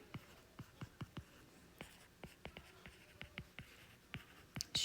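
A pen scratches across paper during an eighth grade math lesson, a quiet run of short, uneven strokes and taps with small pauses between them, close and faint against a soft room background and no talk.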